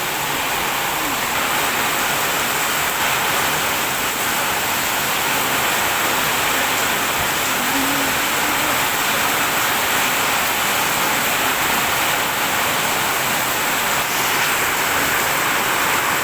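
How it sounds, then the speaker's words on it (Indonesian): Heavy rain driven by strong wind pours down steadily in Kuningan, a loud, dense, unbroken roar of water that fills the whole stretch with no pauses. "hujan angin."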